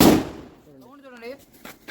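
A vankaya bomb firecracker goes off during Diwali: one loud, sharp bang at the very start that quickly fades, followed by someone talking nearby.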